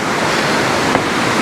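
Rushing river and waterfall water on a shaded forest trail at Palakkayam Thattu in Kannur, Kerala, a steady broadband roar that stays loud and continuous throughout, with no talk.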